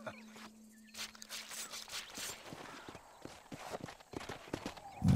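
Horse hooves clip-clopping in Red Dead Redemption as the rider gallops, a quick irregular run of hoof strikes at moderate volume with faint background ambience.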